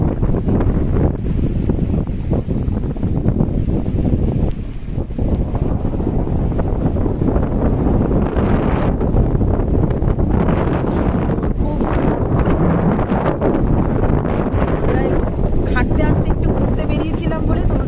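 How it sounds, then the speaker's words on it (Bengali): Heavy wind roaring against the microphone with a constant low rumble and sea waves washing beneath on Mousuni Island's coast, with a person's voice occasionally heard under the noise. "এত হাওয়া, এত সুন্দর সি ওয়েভ,"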